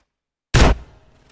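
A single loud burst of gunfire in GTA San Andreas cuts in sharply after silence, then decays into a low rumbling tail, with a faint second crack at the very end.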